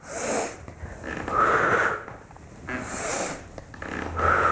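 Slow, deep breaths in and out repeat in a steady rhythm during a yoga exercise. The breathing is close and fairly loud, with no talking.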